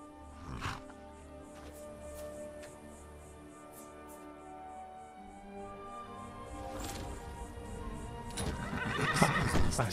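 A horse neighs in the video game Skyrim, a loud whinny at the start and another later, with hoofbeats and game music beneath and a busier clatter building toward the end.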